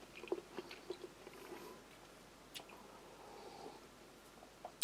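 Quiet, close chewing of a US Army kosher combat ration with chocolate brownie, soft irregular bites and squishy mouth sounds spread across several seconds, with no talking.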